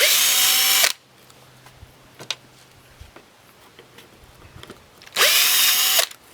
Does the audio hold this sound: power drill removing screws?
yes